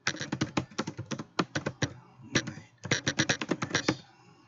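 Close, crisp typing on a computer keyboard comes in rapid clusters of keystrokes, broken by a couple of brief pauses, on a Mac running DJ software.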